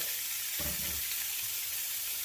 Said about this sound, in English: We are already scorching hot on the cast iron, so I'm just going to go right onto the skillet.